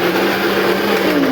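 An electric mixer whips cake batter at home with a steady, close, loud motor whine and whirr that holds unchanged through a brief burst.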